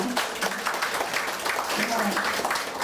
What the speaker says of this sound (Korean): 시민 여러분들을 위해서 박수 좀 쳐주세요.